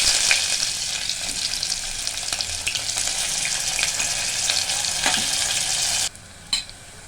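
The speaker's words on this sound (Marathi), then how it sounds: "जिरं फुललं की लगेच आपण कांदा टाकून घेऊया हा पातळ स्लाईस पातळ केलेला कांदा आहे" Thinly sliced onion frying in hot ghee with cumin seeds and bay leaf, a loud steady sizzle with stirring scrapes, cutting off abruptly near the end to near silence and a brief clink.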